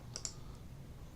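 Two quick, light computer mouse clicks close together near the start, then quiet room tone with a faint low hum.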